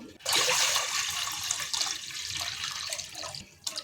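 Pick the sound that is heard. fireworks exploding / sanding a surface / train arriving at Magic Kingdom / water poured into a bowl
water poured into a bowl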